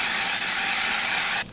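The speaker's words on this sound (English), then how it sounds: "I'm just gonna spray that all over the lace before we install this wig" Medium brown lace tint sprayed over a wig's lace: a continuous, close, loud aerosol hiss that stops abruptly near the end.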